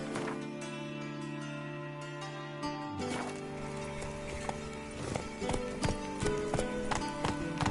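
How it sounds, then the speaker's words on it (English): A horse's hooves pound at a gallop in The Witcher 3, a steady close clip-clop rhythm that grows busier and more irregular toward the end, with no talk. "Whoa there, Roach"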